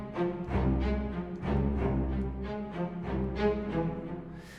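A low contrabass line plays on a synthesized string patch, with sustained bowed-style notes in a rhythmic ostinato and higher string layers above it, soft and continuous with no talk.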